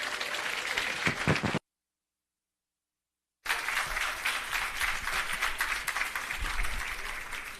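Loud, sustained applause from an audience at the commissioning of an irrigation system, broken by a short silence, then resuming with dense clapping that continues to the end.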